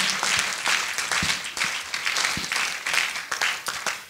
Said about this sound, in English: Can we clap for Jesus Christ?